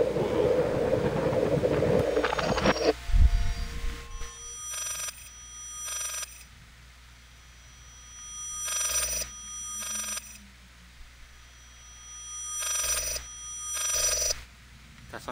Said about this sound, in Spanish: Deja de sonar tu teléfono.